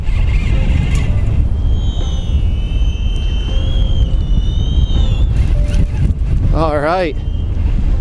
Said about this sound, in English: You can just hear the wind and everything